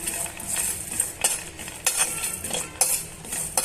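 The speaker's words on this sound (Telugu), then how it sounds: "ఇప్పుడు మనం ఇందులోనే నూనె లేకుండా డ్రై రోస్ట్ చేసుకోవాలండి." Whole spices are dry-roasted without oil in a pan over a medium-low flame, with a spatula stirring them in steady, close scraping and clinking strokes and a faint sizzle underneath. No one speaks.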